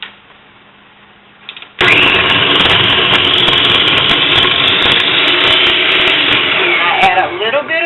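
Countertop blender mixing a smoothie of pitted dates, starting with a loud jolt after a quiet moment and then roaring continuously and harshly up close, with the motor note shifting slightly near the end.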